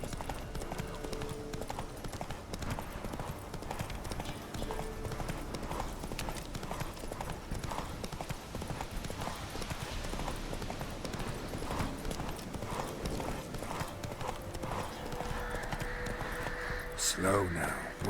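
Horse hooves clip-clopping in a video game, a steady moderate-paced trot of hoofbeats under game sounds and someone talking, with a sharp sound near the end.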